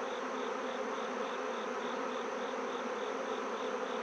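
Dense, steady buzzing of many honeybees at an open beehive during an inspection, a close continuous drone with no pauses and no talking.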